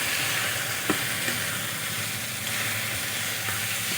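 Fried green banana and potato pieces tumble into a pan of hot spice masala in oil, setting off a steady, close sizzle with a few soft knocks and stirring scrapes.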